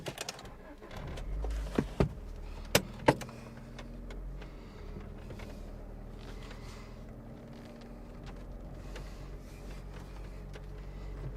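A 1989 Honda Prelude reversing, its low engine drone steady throughout, with a few sharp clicks and knocks early on over a faint background hum.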